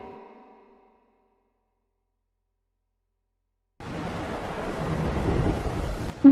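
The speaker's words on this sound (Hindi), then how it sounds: "अभी बहुत तेज बारिश हो रही है" Heavy rain pours down steadily as a dense, loud wash of noise, starting abruptly after a near-silent pause, with a brief low rumble fading at the very start.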